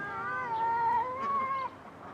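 A stray cat lets out a drawn-out caterwauling yowl, a single wavering howl lasting under two seconds, fairly close and alone, then falling quiet.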